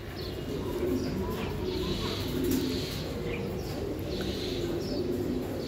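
A high-flying Giribaj racing pigeon coos in soft, repeated murmurs amid a loft full of low cooing, with occasional faint chirps from other birds.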